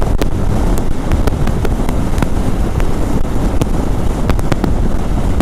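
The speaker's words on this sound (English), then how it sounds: "Wow, it's super windy today." Strong, constant wind roars and buffets across the microphone while riding a naked motorcycle in Montreal, with scattered sharp crackles and pops over the steady rush.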